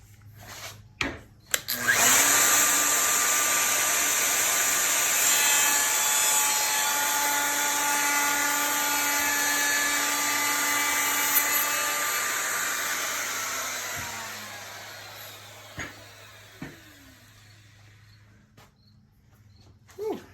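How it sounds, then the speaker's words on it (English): A router turned down to reduced speed drives a large bit in a widened base through wood, a loud sustained whine that holds steady for about ten seconds, then slowly winds down and fades. "put the widened base on it, give it some more support because it is a big bit, and I'm turning down the router speed as well"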